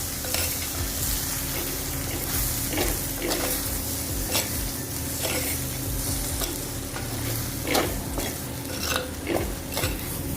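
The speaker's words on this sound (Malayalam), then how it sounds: "നന്നായിട്ട് ഇളക്കാം" A spoon scrapes repeatedly around a clay pot over a constant sizzle of okra curry frying with spice powders on low heat, the strokes coming in an uneven rhythm, close and fairly loud.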